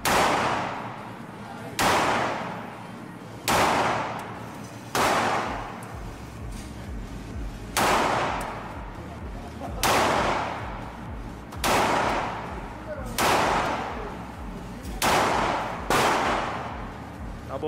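Real firearms fired during outdoor target shooting practice: single loud sharp shots at a steady pace, roughly every two seconds, each with a short ringing decay, no speech between them.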